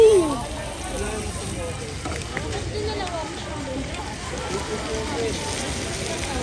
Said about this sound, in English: he's frying the fish over there